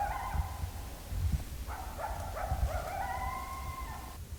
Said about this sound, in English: I love hearing coyotes.